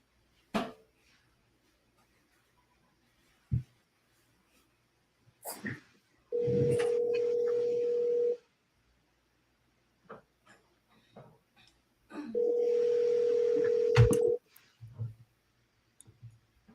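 Two long, steady telephone ring tones, each about two seconds, separated by a pause, with scattered faint clicks around them before a call is forwarded.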